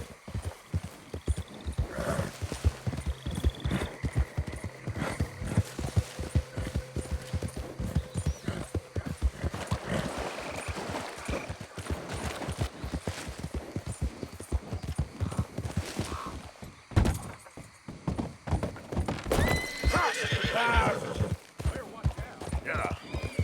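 Rapid clip-clop of a galloping horse in Red Dead Redemption 2, fast hoofbeats throughout with several neighs and whinnies breaking in, a rider's voice occasionally speaking over it.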